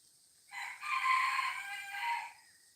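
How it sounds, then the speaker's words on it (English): A rooster crows once, a single drawn-out cock-a-doodle-doo lasting about two seconds, clear and moderately near against an otherwise quiet background. "And with my rooster singing,"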